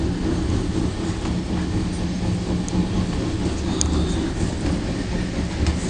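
Trains roll by on the line near Goulburn, a continuous low rumble with steady clickety-clack from wagon wheels, close and loud throughout, with a faint higher squeal at one point.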